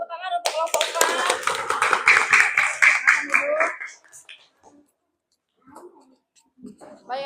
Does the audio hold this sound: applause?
yes